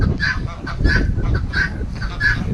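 Geese on a family farm honking in a regular series of loud, nasal calls about every two thirds of a second, close by, with ducks present and a low rumble of background noise underneath.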